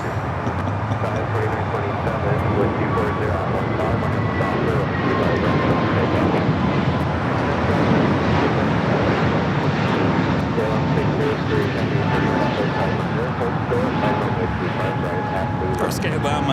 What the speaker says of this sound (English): We do have Singapore in the Star Alliance livery, the 777-300ER taking off there on 24 left.